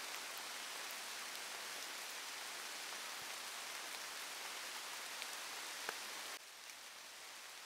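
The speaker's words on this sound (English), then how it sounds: "But it's still raining quite well, I would say." Steady rain falls during a countryside walk in the Cotswold high wolds, a dense, even hiss of drops on the surroundings that fills the whole stretch, with a few faint patters and no voices.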